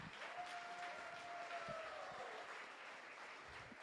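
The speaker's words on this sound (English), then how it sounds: "we could clap a couple times." An audience at a university demo day awards ceremony claps together, a broad, even wash of applause heard from a distance and sustained throughout, with a faint tone lingering briefly beneath it.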